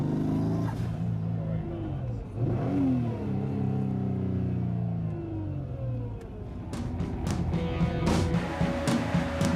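A Nissan GT-R VR38 engine fitted in a Toyota Hiace van revs up and down several times, with rising and falling harmonic sweeps, close by and fairly loud, ending in sharp bursts.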